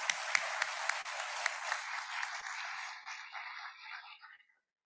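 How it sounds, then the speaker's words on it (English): An audience at Amity University Noida's Sangathan 2022 inaugural ceremony applauds in a dense, fairly distant wash of clapping that thins and fades out over a few seconds. "Huge applause"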